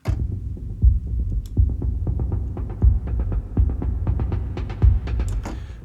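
A throbbing synth texture with a steady low pulse, rhythmic thumps roughly every second, and bright airy tones swelling higher toward the end. No voices.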